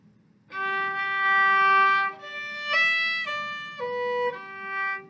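A violin plays slurred eighth notes in one bow with an accent, from a level-three arrangement of Beriot's Air Varie: clear sustained bowed tones stepping between pitches in a smooth, connected phrase, close and alone.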